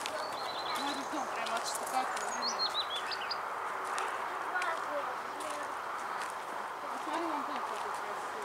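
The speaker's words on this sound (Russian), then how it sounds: "Там даже птицы поют, мам." Birds sing and chirp outdoors at a dacha settlement among tall fir and pine trees, with a run of bright whistled calls early on and softer chirps throughout, under ongoing conversation and ambient noise.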